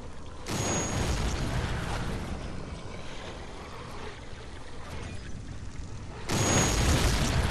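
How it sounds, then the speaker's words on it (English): Explosions in the video game Dead Island Riptide: two loud, rumbling blasts several seconds apart, each setting off a dense, noisy roar. A steady wash of noise fills the gap between them. "What was all them explosions up there?"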